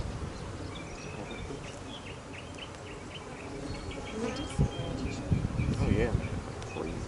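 Honeybees buzz around an open hive during a spring inspection, a dense swarm drone with individual bees passing close. The hum grows louder toward the end, and faint voices sit underneath.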